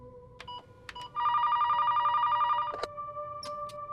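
An office telephone rings in one sustained electronic burst of about a second and a half, clear and close, with no talking over it.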